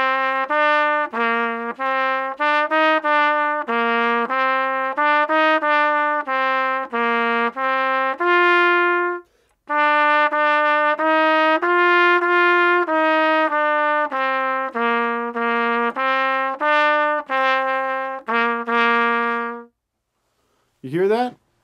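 Solo trumpet plays the Ode to Joy melody through bars 1 to 16, clear sustained notes in stepwise phrases with a brief pause midway, close and alone without talk.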